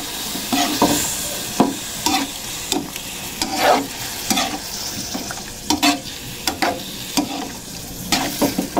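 Squid adobo stirred in a pan, with a steady run of close scraping strokes over a low sizzle at an irregular rhythm, and no talking.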